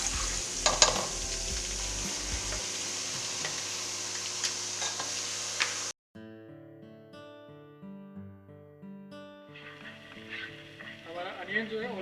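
Onion puree with a slit green chili sizzles and is stirred in a pan for Delhi street-style chhole, a steady frying hiss for about six seconds before music takes over.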